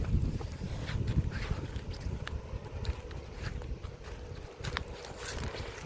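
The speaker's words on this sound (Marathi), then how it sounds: "इथं आहे ना वारा चांगला लागाय लागला" Gusty wind buffeting on high ground beside a river, a low rushing roar with scattered footsteps or thumps, fairly close and continuous throughout.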